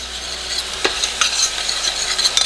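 Garlic sizzles in a pan over medium-high heat, a close, steady crackle broken by several sharp scrapes as it is stirred.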